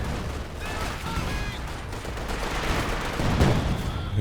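A battlefield din from Company of Heroes 2 brings a rumbling artillery barrage with bursts of gunfire and a heavy boom near the end, under continuous talk.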